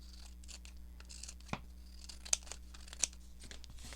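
Paper is trimmed for a junk journal fold-and-tuck pocket: three or four quiet, crisp snips and a soft tearing rustle spaced over a few seconds in a hushed room.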